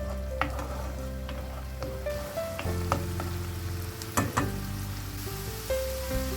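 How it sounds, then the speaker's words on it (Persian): Onion and turmeric frying in oil in a pan, a steady sizzle with utensil taps and scraping from stirring, moderately close. "در مقداری روغن پیاز رو تفت میدم. یه مقدار هم زردچوبه اضافه میکنم و همراه پیاز در روغن تفت میدم."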